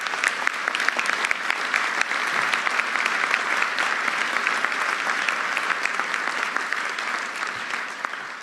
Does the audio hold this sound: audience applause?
yes